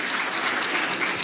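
Business leaders in an audience applauding the Brazilian president, a dense, loud, continuous wash of many hands clapping with no voices on top.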